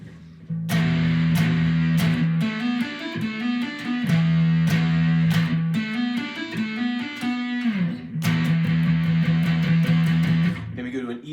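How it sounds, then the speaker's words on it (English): An electric guitar with light distortion and fuzz plays loud sustained chords and riffs, with sharp attacks at each strum and brief pauses between phrases, and no talking over it. "If I turn on a little distortion,"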